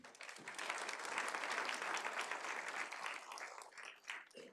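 An audience applauds an introduced speaker, the police chief of San Luis Obispo, at a crime victims awareness event: sustained dense clapping from a crowd that fades slightly toward the end, moderately distant.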